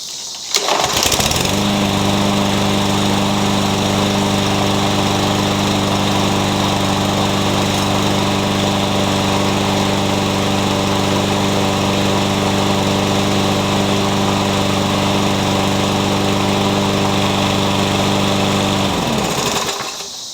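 A Tecumseh-engined Toro-Bilt lawn mower, previously seized, starts with a quick pull and then runs at a steady, loud buzzing drone for about twenty seconds before cutting off, with no voices.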